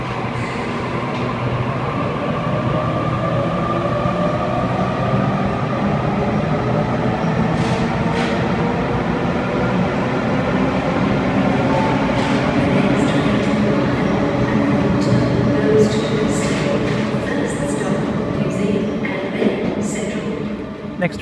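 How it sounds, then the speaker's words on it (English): A Sydney Waratah train, set A62, departs platform 2 at St James station at night, making a loud, sustained rumble with a steady electric whine and scattered rail clicks and squeaks. "Here we've got Waratah A62 departing platform number 2 for a MacArthur service via the airport"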